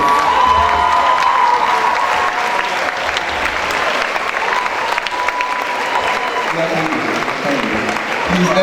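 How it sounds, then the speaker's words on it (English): Standing ovation for the teachers who directed a school production of Medea, with sustained dense applause and crowd noise over nearly nine seconds and voices mixed in underneath. "Can we please have a standing ovation for our wonderful teachers, the directors of Medea."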